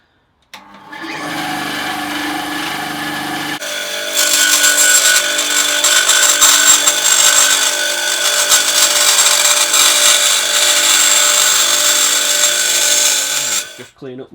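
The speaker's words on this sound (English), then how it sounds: "over to the bandsaw to cut it" A bandsaw starts up and cuts through a Kydex sheet, a steady motor whine rising into a louder, gritty rasp as the blade bites into the plastic, then spinning down near the end.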